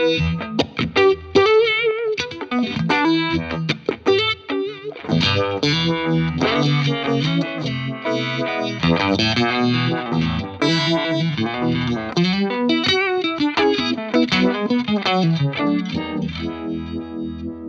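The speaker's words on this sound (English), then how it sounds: "Jam, make one of my favorite univibes of all time, the retro vibe" Electric guitar played through a JAM Retro Vibe univibe pedal, giving a swirling, throbbing modulated tone with some grit across a continuous run of chords and single notes, plain and unaccompanied.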